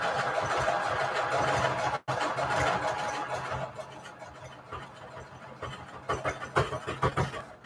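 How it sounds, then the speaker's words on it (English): A sewing machine used for making patchwork junk journal covers runs loudly and steadily with a rapid mechanical hum, breaks briefly, then resumes in uneven pulsing bursts near the end. "sometimes sewing machines make scary sounds"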